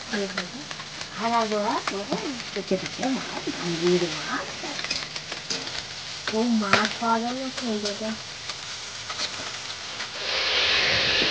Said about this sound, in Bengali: প্রথমে আমি কড়াই সম্রাট লঙ্কা দিয়ে দিয়েছি আর দিয়ে সব আনাজ দিয়ে দিয়েছি।